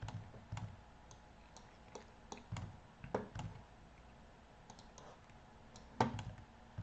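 Computer mouse clicks while working in circuit software on a computer: a sparse, irregular series of quiet, sharp clicks over soft background hiss, with no voices.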